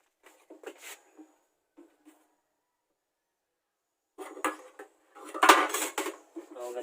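Polyester body filler stirred with hardener in a container, sharp scraping and clinking strokes in short bursts, sparse at first and then busier, close up with a few brief spoken words.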